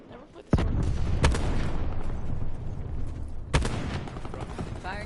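Artillery strike in Call of Duty Black Ops 4: a sudden heavy boom, then a dense, sustained roar of blasts and gunfire, with further sharp impacts throughout, loud and close.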